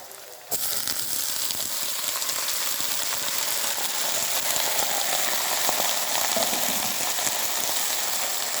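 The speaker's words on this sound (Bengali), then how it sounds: "এবারে আমি শাকটা দিয়ে দেবো।" Methi leaves dropped into a hot pan of oil, bursting into a sudden loud sizzle that stays as a dense, steady crackling hiss close by.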